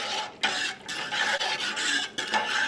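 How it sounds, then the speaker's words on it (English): Whisk scraping and stirring cherry pie filling in a pot on the stove, a steady close rasping swish that runs continuously with brief pauses between strokes. "So I'm just stirring this every minute or so."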